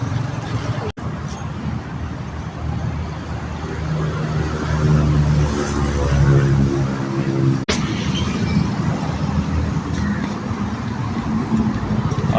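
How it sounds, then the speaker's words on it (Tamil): Busy morning road traffic passes steadily nearby, cars and heavier vehicles humming and droning with an engine swelling louder midway before easing, continuous throughout. "காலையிலே ஓவர் டிராஃபிக்காக இருக்கு."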